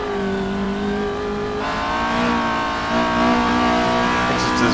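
A race car engine in the video game Assetto Corsa revs hard and loud, its pitch climbing and dropping with gear changes, a steady mechanical whine carrying throughout.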